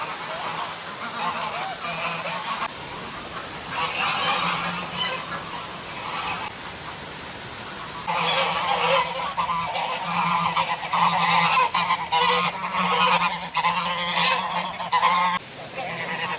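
American ducks on a pond give repeated honking, goose-like calls, loud and close, in overlapping bursts with faint background chatter.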